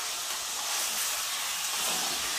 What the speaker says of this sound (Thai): หมูเราจะไม่ทอดให้นานนะครับ